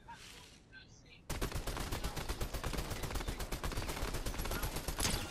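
Fortnite gunfire erupts after a quiet start, a loud rapid string of near shots in a steady automatic rhythm that continues to the end.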